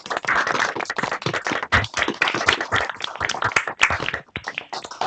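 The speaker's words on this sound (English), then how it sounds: "So can we do a big round of applause from everyone?" Applause from participants at a care home providers' meeting: dense, irregular hand claps fill the clip at a steady, fairly loud level, with slight unevenness suggesting a smaller group.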